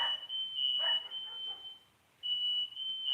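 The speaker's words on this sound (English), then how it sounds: "well, the fire alarm works." A smoke alarm emits a loud, steady high-pitched beep that holds, cuts out briefly, then sounds again, with faint background noise underneath.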